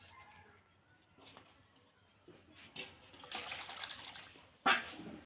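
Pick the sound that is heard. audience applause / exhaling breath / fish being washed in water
fish being washed in water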